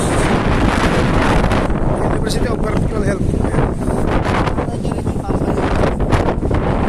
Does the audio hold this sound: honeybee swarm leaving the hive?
no